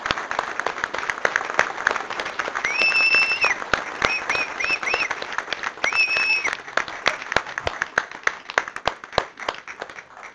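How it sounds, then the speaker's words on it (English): Applause for first responders at a city council meeting, a dense, steady round of clapping from a room of people, with a few brief whistles over it. "We have one last round of applause."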